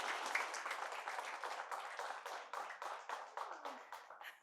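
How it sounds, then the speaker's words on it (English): Audience applause at a televised spelling bee competition, a steady burst of many hands clapping that fills the room, with individual claps standing out as it thins slightly toward the end. "Let's give them a bigger round of applause."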